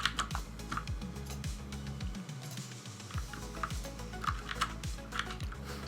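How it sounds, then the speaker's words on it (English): Fingers tap quickly on a small computer keyboard, close and steady keystrokes with a few pauses, over soft background hum and no talk. "Sorry, my keyboard is way too small. I keep hitting the wrong key."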